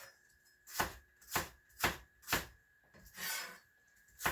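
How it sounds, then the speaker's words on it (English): A knife chops leftover eggplant stems on a cutting board, giving six crisp, evenly spaced thuds about half a second apart, fairly faint and with no talking. "I chop them up"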